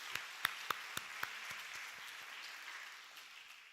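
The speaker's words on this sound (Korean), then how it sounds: "우리 다음 세대 다시 한번 박수하겠습니다" Applause from a church congregation at a Friday late-night prayer service, beginning with a few sharp, separate claps that quickly merge into moderate, steady clapping and then slowly thin out.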